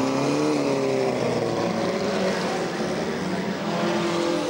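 Race cars on a track roar past together in a continuous loud, dense engine drone, with overlapping revving tones rising and falling and no clear speech.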